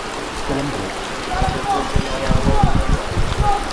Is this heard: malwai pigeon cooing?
no